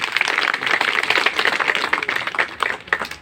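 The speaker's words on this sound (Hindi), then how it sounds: "जोरदार ताली।" A crowd at a farewell ceremony breaks into loud, sustained applause, with dense claps running steadily from start to end and no talking.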